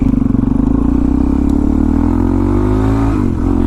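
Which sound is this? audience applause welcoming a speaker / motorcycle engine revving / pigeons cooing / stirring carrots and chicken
motorcycle engine revving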